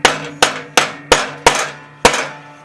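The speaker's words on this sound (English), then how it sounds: "tap her underneath with a rubber mallet" Six sharp, loud rubber mallet taps driving a riding mower pulley shaft up into its bearing on a Craftsman mower, evenly spaced with a short ringing decay after each blow, close up with no talk.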